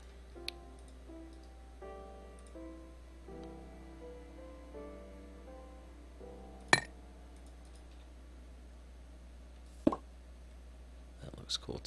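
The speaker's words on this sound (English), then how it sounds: "Let's grab the chisel again." A chisel strikes stone in the video game Life in the Woods, giving a few sharp, isolated clicks spaced seconds apart over soft, quiet background music.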